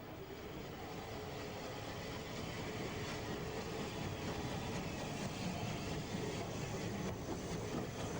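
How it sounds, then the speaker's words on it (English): A Waterloo-bound steam train leaves Weymouth with a steam banker pushing at the rear, giving a continuous, fairly distant rumble of wheels and engine noise that builds slightly and holds steady. "A Waterloo-bound train leaves Weymouth in the last week of steam with the usual steam banker."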